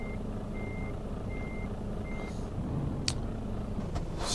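Evenly spaced reversing beeps from a truck backing up to attach a trailer in Euro Truck Simulator 2, sounding over a steady low engine rumble, followed by a couple of brief hissing air releases.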